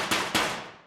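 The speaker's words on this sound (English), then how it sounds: "When you put the close mic in on metal sounds like this" A metal sheet, miked close, is struck twice in quick succession. Each hit is a sharp, bright clang that rings briefly and then fades out.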